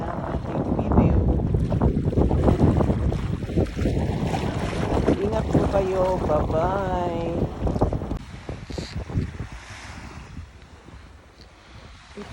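Sea waves wash along a shoreline at Awagi, heard from a boat with steady wind buffeting the microphone; a person talks over the first half, then the surf and wind continue alone, fading lower toward the end.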